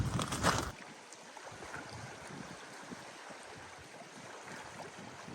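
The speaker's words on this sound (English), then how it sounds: "That's a paddling." A paddle works through water in Sweden, with soft, faint splashes and swishes over a quiet outdoor background after a brief louder burst at the start.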